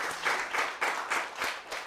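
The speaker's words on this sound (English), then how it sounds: "Round of applause for that" Audience clapping, a short burst of rhythmic, fairly soft applause from a modest crowd with a few distinct hand claps standing out.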